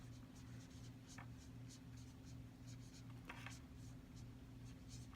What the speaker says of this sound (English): I'm actually having to erase and rewrite it.